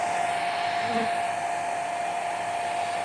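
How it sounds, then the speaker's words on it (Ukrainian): A hair dryer runs continuously with a steady, even whir and high-pitched tone from start to finish, no pauses, warming cold honey bees. "Їх треба розігріти феном."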